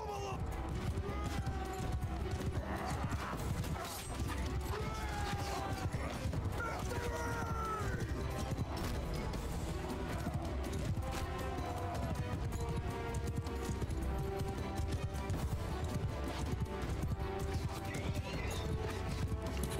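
Horses gallop in a Mount and Blade Bannerlord battle against horse archers. A continuous clatter of hoofbeats runs for about twenty seconds within a dense, busy game mix, steady in level throughout.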